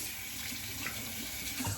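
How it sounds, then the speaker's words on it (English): Cold tap water runs steadily while a double-edge safety razor is rinsed under it, a continuous close splashing hiss with small shifts as the blade moves through the stream. "Now I'm gonna rinse off with cold water."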